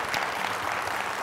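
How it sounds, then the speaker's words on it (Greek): A Greek Wheel of Fortune game show studio audience breaks into steady, loud applause that fills the whole moment. "Το κορίτσι μας, παιδιά, ένα χειροκρότημα, Χριστίνα."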